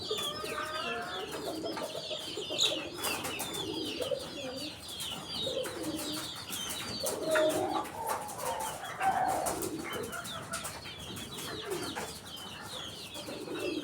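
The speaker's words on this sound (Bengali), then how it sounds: "একসাথে অনেকগুলো কবুতর" Many pigeons and chickens feeding together, with steady cooing and clucking throughout, close and fairly loud, several birds calling at once with no talk.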